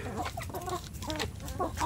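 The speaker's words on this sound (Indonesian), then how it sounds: "ini ayam kampung saya di kandang umbaran khusus" Several free-range village chickens cluck and chatter nearby in quick, uneven bursts in an enclosure, with steady low background noise throughout.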